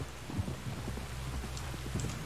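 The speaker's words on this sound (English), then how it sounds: "You were right about the damn rain." Rain falling in the open-world western game Red Dead Redemption 2, a soft, steady patter with scattered drops and low rumbling underneath, faint and continuous throughout with no voices.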